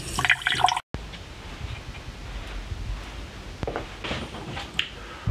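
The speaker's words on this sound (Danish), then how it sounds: "Til at starte med, så skal vi egentlig bare bruge noget frisk vand, og det får vi bare fra hanen." Fresh water runs from a kitchen tap: a steady, close splashing flow begins after a brief cut and carries on at a moderate level, with a few small knocks and clinks over it.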